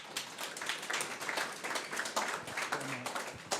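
Audience applause for a speaker being welcomed at a B2B SaaS marketing event, a steady wash of many hands clapping at moderate volume throughout, with a faint voice or two mixed in near the end.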